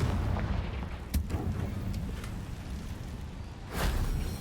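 Confringo fire spell blasting in the Hogwarts Legacy video game, a sharp crack followed by a rumbling burst and a second whooshing boom near the end, loud over a continuous low game ambience.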